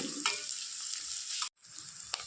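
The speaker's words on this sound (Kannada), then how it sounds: "ಈರುಳ್ಳಿನ ಚೆನ್ನಾಗಿ ಫ್ರೈ ಮಾಡ್ಕೊಳ್ಳೋಣ" Onions sizzle and crackle steadily in a hot pan for an okra palya, a constant close hiss with a few stirring scrapes and one brief cut to silence midway.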